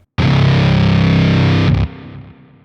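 A loud, heavily distorted guitar riff through the Neural DSP Archetype: Rabea plugin blares with stuttering, glitchy effects, then cuts off abruptly into a fading tail.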